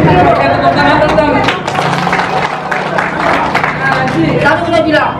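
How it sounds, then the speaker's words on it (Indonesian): Audience clapping at an Islamic preaching event, a scattered burst of hands heard close, mixed with crowd murmur and overlapping voices throughout. "Kita tepuk tangan dong."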